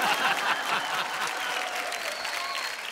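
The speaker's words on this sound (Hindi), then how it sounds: "तालियां" Studio audience applauding on an Indian Hindi talk show, a dense steady wash of many hands clapping at close range, sustained and even for the whole stretch with a faint crowd murmur and brief whistle-like tones underneath.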